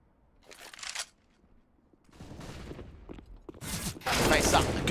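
Gunfire in a competitive shooter match on the Nuke map comes in three bursts of rapid shots, each louder than the last, the final stretch loud and sustained, with a commentator's voice at times.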